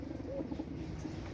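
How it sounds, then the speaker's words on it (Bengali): A pair of Shaki-type pigeons coo softly and repeatedly close by, low rolling calls over a steady background hum with no voices. "একজোড়া সাকি গ্রুপের কবুতর।"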